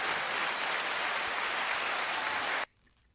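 A crowd claps steadily as a home theater speaker show opens, a dense even wash of hand claps held for over two seconds, then cut off abruptly into near silence.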